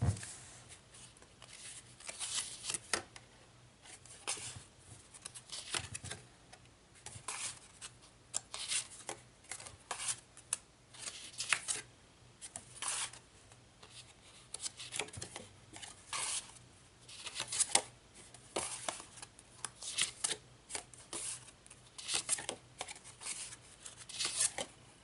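Craft cards from a Studio Calico kit are handled close by, giving quiet papery shuffling, tapping and rubbing in a busy, irregular patter throughout, with no voice heard.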